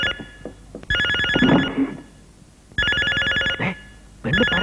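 A telephone rings in loud, close repeated electronic trills, with three bursts separated by short silences.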